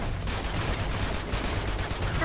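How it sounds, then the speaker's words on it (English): Sustained gunfire fills the scene in Uncharted 2, a dense, continuous barrage of shots with no pauses, loud and close throughout. "Just keep shooting!"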